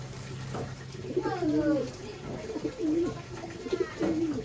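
A pigeon with sore eyes coos softly several times in a row, close by and gentle, with low rolling calls over a faint background hum.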